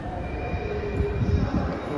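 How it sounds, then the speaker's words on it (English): Manchester tram pulling into a station on the route back to Piccadilly, a steady low rumble of wheels and motors with faint rail hiss, fairly close and continuous throughout. "Right, now this is my tram back to Piccadilly."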